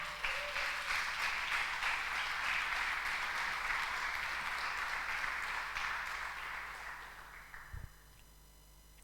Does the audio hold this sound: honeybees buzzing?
no